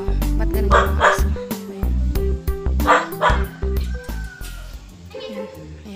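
A dog barks repeatedly in sharp bursts, close by, mixed with yips and people speaking in the background.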